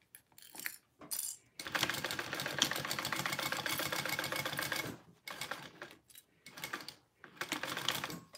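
A sewing machine stitching a Marcel barrel bag, running in a long steady whir of rapid needle chatter, then stopping and starting in shorter bursts, close and clear with no speech.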